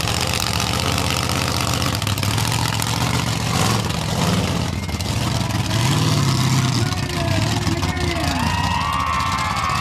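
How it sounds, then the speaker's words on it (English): Big 8-wheeled Predator monster truck at an off-road truck show, its engine roaring and surging with rising and falling revs amid crowd noise while a commentator talks over the sound. "this big 8-wheeled Predator thundering down, smashing those cars"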